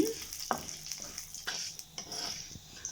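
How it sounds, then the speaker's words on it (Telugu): Chana dal and urad dal fry in a pan of oil, a soft steady sizzle broken by a few sharp stirring scrapes and taps of a spoon against the pan. "తర్వాత ఒక 2 స్పూన్లు పచ్చిశనగపప్పు, 2 స్పూన్లు మినపప్పు బాగా వేపుకోవాలి."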